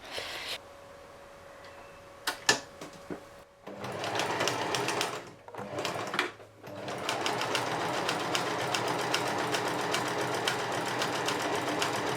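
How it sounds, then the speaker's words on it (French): A sewing machine stitches a zigzag backstitch to lock the thread on fabric for an off-road 4x4 camper build, its rapid steady clatter running loud and continuous after a few brief starts and pauses. "je fais un point d'arrêt en zigzag qui permet d'arrêter le fil pour pas que ça s'effiloche de partout"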